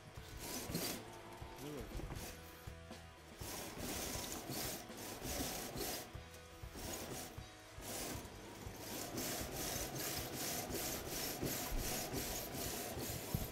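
A wooden piece is sanded by hand with steady, continuous rough rubbing strokes close up, fairly quiet, with faint talk in places.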